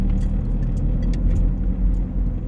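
A car drives slowly off a high street into a car park in Pateley Bridge, a steady low engine rumble and tyre noise heard from inside. Small light rattles and jingles sound over it.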